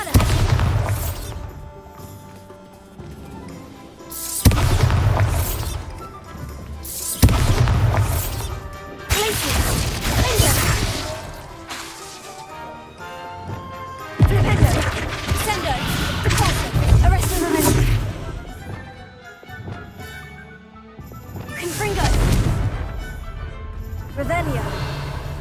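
Repeated booming Bombarda blasting-spell explosions in the video game Hogwarts Legacy, loud crashing bursts every few seconds with shattering debris and game sound between them.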